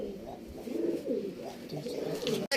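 Pigeons coo softly and repeatedly at close range in low, rolling calls that overlap one another, with a faint voice in the background.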